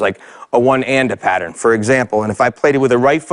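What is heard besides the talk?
No everyday noise stands out behind the speech.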